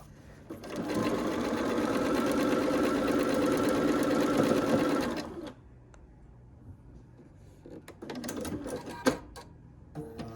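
A sewing machine stitches quilt pieces in a steady run of about five seconds, then stops, followed by softer handling and clicking sounds close by.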